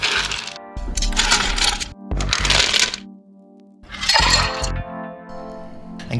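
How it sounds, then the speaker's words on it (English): Ice cubes tumbling into a cocktail glass for a raspberry lavender spritz, three loud bursts of clattering and cracking separated by short pauses, close up with no talking. "So you're gonna fill your glass with ice."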